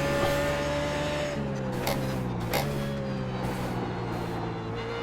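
BMW Z4 GT3 race car engine in the iRacing sim at Sebring International Raceway, a loud continuous drone whose pitch falls twice as it shifts up through the gears.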